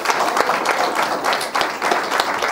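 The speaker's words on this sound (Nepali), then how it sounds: "हामी परमेश्वरलाई ताली मारेर धन्यवाद" A congregation at a Christian wedding in Nepal claps together in thanks to God. The applause is dense and steady, close and fairly loud throughout.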